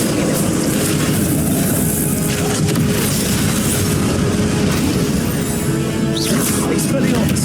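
Confringo blasting spells exploding during combat in Hogwarts Legacy, a dense, continuous roar of blasts and booms that fills the whole stretch, with voices in the mix.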